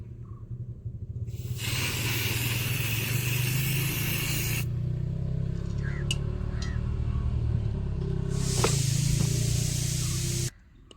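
A spray paint can hisses through a stencil onto a rural house wall while Warli art is painted in the Konkan countryside. Two sustained, fairly close bursts of spray are separated by a quieter pause with faint background noise.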